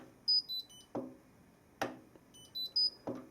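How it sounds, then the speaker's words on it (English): An Indesit IWDD7123 washer dryer gives quiet electronic beeps, several short tones in small clusters spread across a few seconds, with soft clicks in between. "The beeps that the machine make, say at the end of the wash and stuff, are very quiet"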